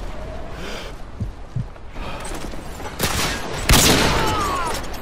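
Video game gunfire plays in a kill cam replay where an M9 is involved: scattered faint shots at first, then sharper bursts around the three- and four-second marks over a steady background wash.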